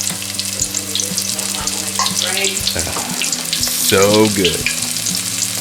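Onion rings fry in hot oil with a loud, continuous close sizzle and bubbling, cooking too fast and burning slightly, while a person speaks briefly over the crackle.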